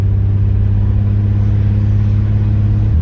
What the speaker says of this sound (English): she shifts through the gears